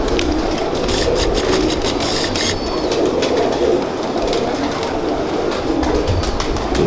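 Pigeons coo steadily nearby in a loft of pure-bred birds, with soft repeated calls layered over a constant low background rumble and no speech.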